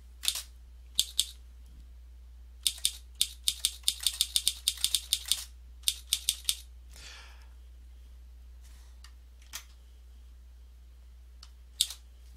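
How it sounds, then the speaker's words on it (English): Typewriter key-clack sound effect from the FocusWriter writing app triggered while typing, crisp sharp clicks in irregular bursts and rapid runs, close and fairly loud over a low steady hum, with sparse isolated clicks toward the end. "Here's where you can set that typewriter sound."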